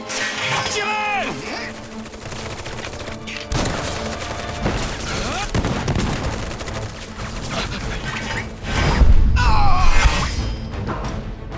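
Rapid bursts of gunfire and explosive booms crackle through a Final Fantasy VII Remake battle, loud and repeated over about ten seconds, with shouted voices among the shots.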